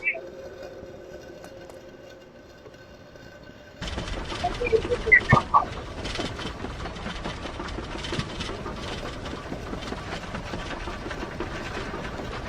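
Train arriving at a station, a low quiet hum that jumps to a louder, sustained rumble and clatter with a few brief squeals, fairly close.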